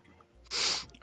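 A single sharp sneeze bursts out close to the microphone after a short intake of breath, loud and brief, with quiet room sound around it.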